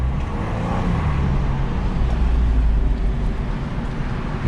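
A 2021 Ford Bronco Badlands driving with all four windows down, wind rushing in from one side over a steady low road and engine rumble, continuous and fairly loud with no talking.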